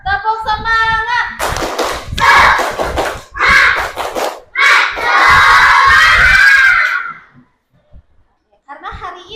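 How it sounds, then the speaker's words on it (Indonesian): Schoolchildren perform the tepuk semangat clapping chant in a classroom, loud rhythmic bursts of claps alternating with shouted unison chanting, ending in a brief pause before voices return. "Sebelum mulai pembelajaran, coba tepuk semangat dulu. Tepuk semangat."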